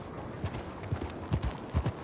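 Soft, rhythmic clip-clop of horse hooves in Red Dead Redemption 2, about eight steps at an even walking pace, fairly quiet and close.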